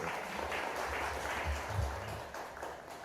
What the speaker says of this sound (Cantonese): 所以再俾啲掌聲，多謝佢哋